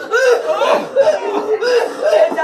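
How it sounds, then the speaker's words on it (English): A run of loud, throaty, exaggerated coughs from one person nearby, rough and voiced, in quick succession. "Listen to this cough."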